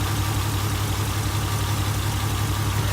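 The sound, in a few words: car engine cranking at wide open throttle, compression test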